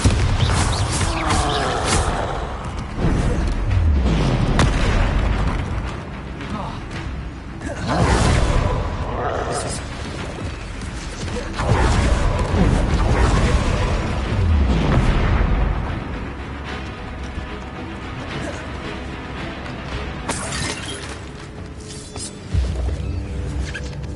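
Bombarda explosion spells and other combat spells go off in the Hogwarts Legacy video game, producing repeated heavy booms and rumbling blasts at irregular intervals, with a voice talking in between.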